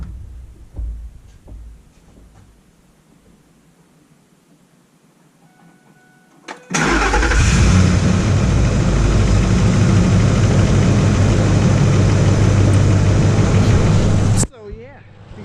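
A 2005 Ford F-150 fitted with a cold air intake cranks and fires up after quiet handling noises, then holds a loud, steady close-up idle before cutting off abruptly.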